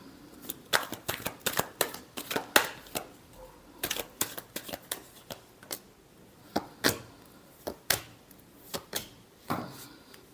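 Tarot cards being shuffled by hand, in irregular quick riffling bursts and sharp snaps, close and fairly loud, with no talking.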